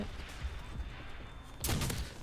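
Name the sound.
shotgun firing in Call of Duty 5 video game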